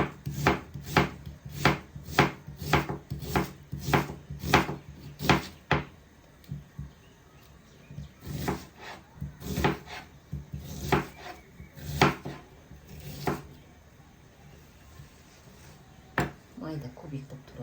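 A knife chops green onion into small cubes on a board, giving a quick run of sharp, regular taps followed by slower, scattered cuts, with a person talking over it.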